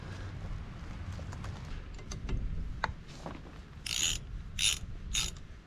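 Bolts on Can-Am X3 brake pads are tightened with a ratcheting tool, giving scattered soft clicks and then three sharp bursts of ratchet clicking near the end, close and fairly quiet.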